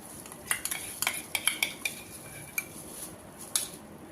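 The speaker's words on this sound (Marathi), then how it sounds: "आणि हिंग हिंग टाकल्यानंतर लसणाची पेस्ट टाकायची आहे" A metal spoon clinks and scrapes against a pan as garlic paste is added and stirred for an Andhra-style mango pickle, a string of sharp, close taps over faint background hiss.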